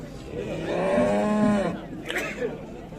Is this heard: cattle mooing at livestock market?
yes